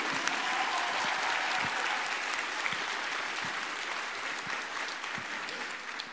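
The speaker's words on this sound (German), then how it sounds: "Einmal einen ganz riesen Applaus und richtig laut" A large crowd at the DoKomi 2021 cosplay contest applauds loudly and steadily, dense clapping that fills the hall and holds evenly throughout with only slight fading near the end.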